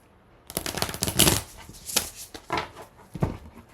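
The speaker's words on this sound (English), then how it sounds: "Let me give these cards a really good shuffle." Tarot cards being shuffled during a reading: a quiet series of papery riffles and slaps in uneven bursts, close up, with no talking.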